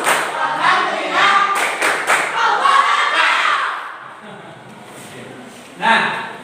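A class of students performs a rhythmic spirit clap, many hands slapping together in quick bursts over a few seconds before it fades, with voices chattering and calling alongside.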